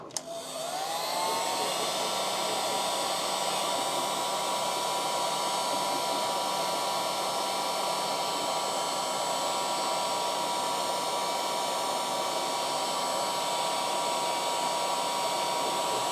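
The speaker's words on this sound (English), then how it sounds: "Now I just gotta get my heat gun out." A heat gun blows hot air onto a 3D print, a steady, loud whooshing roar with a whining tone that starts abruptly and keeps going without a break.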